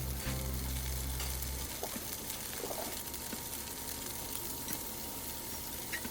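Tofu frying in a pan until lightly browned gives a steady, fairly quiet sizzle and crackle, with a low hum at the start that drops away after a moment.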